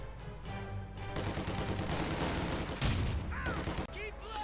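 Battle noise from Company of Heroes 2, with an MG42 machine gun firing rapid bursts amid grenade blasts and chaotic gunfire, dense and continuous across the short stretch.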